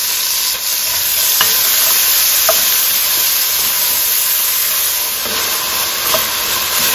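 Celery, onion, carrot, crushed garlic and ginger fry in a pan for braised beef short ribs, giving a loud, steady sizzle with a few scraping stirs and clicks from the utensil throughout.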